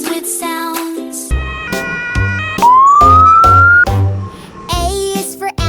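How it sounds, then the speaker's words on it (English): A rising, wailing ambulance siren tone in a children's song, over a bouncy tune of stepped melodic notes, loud and close. "A is for ambulance racing through."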